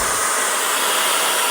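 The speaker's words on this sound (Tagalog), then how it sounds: "perfect na perfect tong Derma vacuum cleaner sa mga pangbahay na panlinis" A Deerma vacuum cleaner runs at home with a steady, loud, continuous whirring roar and a bright, airy hiss throughout, with no speech.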